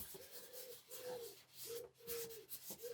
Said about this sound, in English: I think there's a pigeon outside that I can hear.